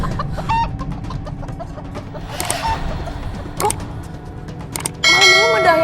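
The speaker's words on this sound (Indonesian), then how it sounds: "Malam-malam ada ayam berkokok sih." A rooster crows at night, with clucking chicken calls scattered over a low background hum and a louder drawn-out crow at the end; faint voices are present.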